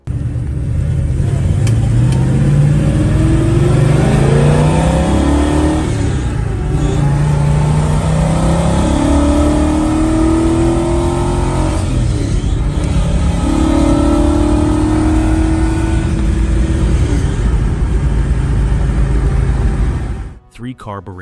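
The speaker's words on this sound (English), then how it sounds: "The Pontiac 389 Tri-Power." A Pontiac 389 Tri-Power V8 with three carburetors revs in loud, sustained rising sweeps, climbing and dropping several times over a steady rumbling idle before cutting off abruptly at the end.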